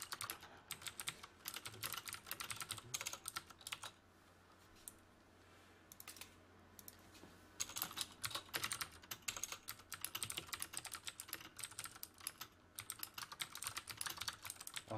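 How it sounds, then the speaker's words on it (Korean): Rapid clattering keystrokes on a computer keyboard in a room where Copic marker drawing is being set up, loud and close, in dense bursts with a short quieter pause midway. "이 타자기 소리 엄청 크게 들리는데"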